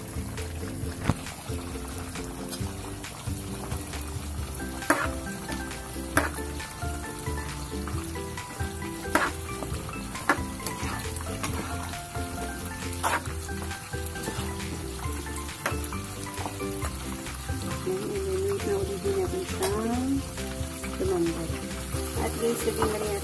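Pork menudo with carrots cooking in a pot, a steady bubbling simmer with soft popping and sizzle throughout, close and continuous, with occasional clinks and light stirring.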